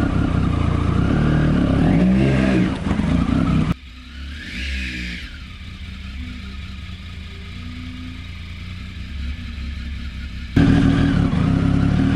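A motorcycle engine revs loudly inside a shed, with rising and falling roars, clattering idle between revs and a muffled stretch in the middle.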